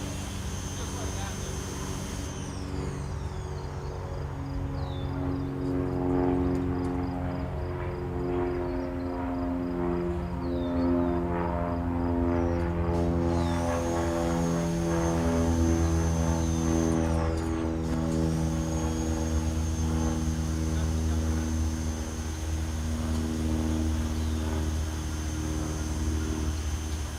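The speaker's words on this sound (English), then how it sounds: "Yard sweeper." A Yarbo robotic yard sweeper runs outdoors with a loud, steady mechanical whir and shifting tonal drone that rise and fall in pitch, continuous throughout at close range.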